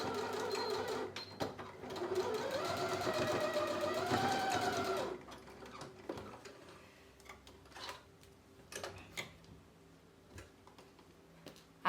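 Sewing machine backstitching the seam of a towel, a close, steady whirring run of stitches that stops abruptly, followed by scattered clicks and light handling noises.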